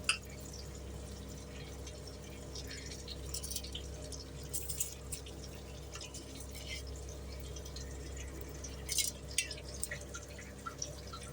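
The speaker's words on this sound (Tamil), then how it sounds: "நல்ல கொதி வருது பாருங்கள்" Water for chicken biryani rice bubbles steadily at a rolling boil in a pot, a soft continuous burble with occasional louder pops over a low background hum.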